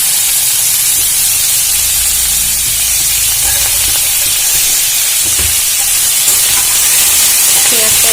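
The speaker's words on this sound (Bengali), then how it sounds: "পেঁয়াজটা এবারে এর সাথে খুব ভালো করে ভেজে নেব।" Potatoes and onions fry in a pan with a steady, close sizzle and hiss, broken now and then by light stirring scrapes; no one talks.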